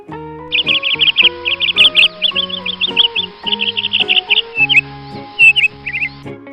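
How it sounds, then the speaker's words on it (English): A canary sings rapid, high trilling phrases in quick repeated bursts for several seconds, with a steady musical accompaniment underneath. "Canary."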